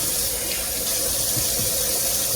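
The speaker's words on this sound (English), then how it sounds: "You turn on your cold water, you run your hand under it" Cold water runs steadily from a tap into a sink, a constant close-up rushing stream with no voices.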